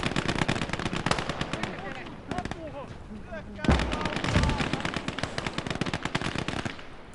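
Bursts of machine gun fire rattle in a Call to Arms: Gates of Hell winter battle, rapid dense clatter with a brief lull before resuming, while a voice talks over the gunfire.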